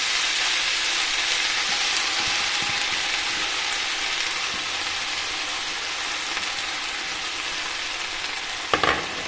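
Drumstick leaves frying in a pan over a low flame for thoren, giving a steady, even sizzle throughout with a brief clatter near the end.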